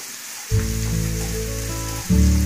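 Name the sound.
ginger frying in oil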